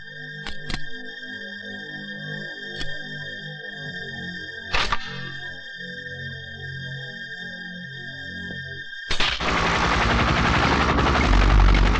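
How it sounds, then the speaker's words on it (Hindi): A helicopter in a film scene approaches as a rising, steady engine roar that swells near the end, after a tense stretch of low background tones and sharp isolated hits. "कानिया हेलीकॉप्टर में आ रहा है, कुछ गड़बड़ है।"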